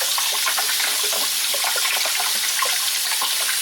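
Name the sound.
rinsing food under running water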